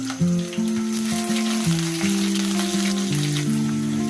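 Panch phoron spices frying in hot oil for a bottle gourd curry, a steady close sizzle over the whole stretch with no talk.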